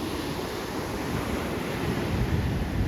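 Waves churning and breaking on a lake during a storm: a steady, loud roar of water and gusting wind battering the microphone, with no voices.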